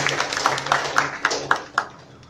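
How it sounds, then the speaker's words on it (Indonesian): An audience in a church service clapping hands in a steady rhythmic beat, about eight sharp claps spaced evenly, with voices murmuring underneath. "Tepuk tangan dong"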